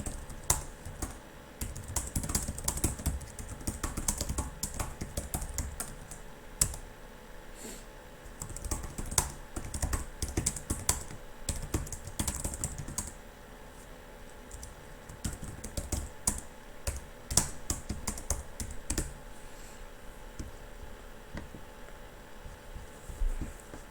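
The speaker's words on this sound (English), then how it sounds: "I'm just going to type that in." Typing on a computer keyboard: irregular runs of light key clicks with short pauses, continuing steadily for a long stretch with no talking.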